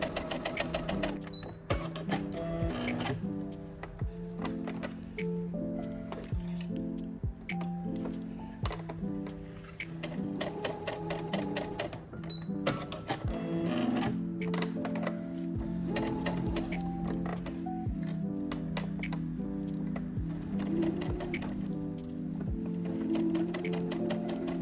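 A sewing machine runs steadily along a dress waistband, its needle chattering in a fast, even rhythm that stays close and clear, with brief pauses and restarts.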